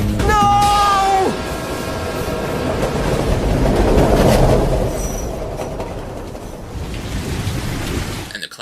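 Train rolling past in an animated Barbie film, with squealing wheels and rhythmic rail clatter, loud at first and then fading to a softer rumble near the end.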